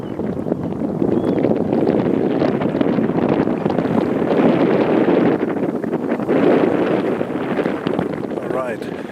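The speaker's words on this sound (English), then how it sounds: "I'm turning around so we can see here if the wind is catching at some point." Strong wind buffets a Canon Legria HF G10 camcorder's built-in microphone on a windy beach, a steady loud rumbling roar with gusts throughout and no clear speech.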